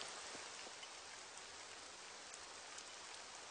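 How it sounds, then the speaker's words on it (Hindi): Steady rainfall hisses evenly, soft and somewhat distant, with scattered droplets tapping through the constant wash. "बारिश शुरू हो गई"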